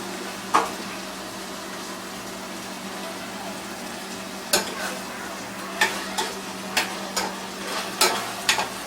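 Potatoes, green chilies and onions are stirred in a pan for an Indian-style gravy: a soft, continuous sizzle with irregular sharp scrapes and taps of a spoon against the pan, close and clear.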